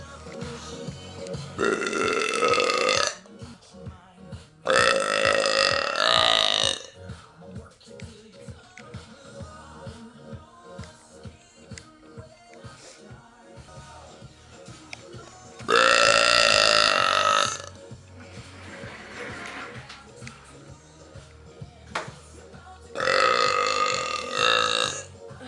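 A man burps loudly and repeatedly, four long drawn-out belches spaced several seconds apart, close and prominent, with quieter tapping and shuffling in between.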